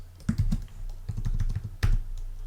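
Fingers tapping keys on a computer keyboard while arranging a beat in Logic Pro X, close clicks in short uneven bursts with one sharper key strike near the end.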